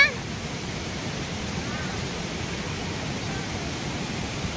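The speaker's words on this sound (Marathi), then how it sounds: "इकडे खाली धबधबा आहे, दिसणार नाही इकडून." Steady broadband roar of a waterfall somewhere below a village cliff edge, constant and fairly distant, with no pauses and no clear voices over it.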